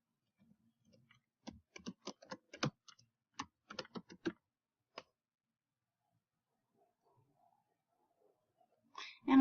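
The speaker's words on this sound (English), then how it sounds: "Let's just type it." Sparse, light keystrokes on a computer keyboard tap out in short irregular bursts, faint and close in a quiet room, fading into near silence before a brief louder noise at the end.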